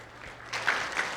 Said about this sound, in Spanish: Les invitamos a recibirlo con un fuerte aplauso.